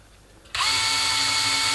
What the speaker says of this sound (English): I transferred the position of these holes using a hand drill